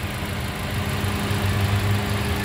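A 2018 Toyota Rush TRD with manual transmission idles steadily, a low even engine hum with a faint rhythmic pulse and no voices.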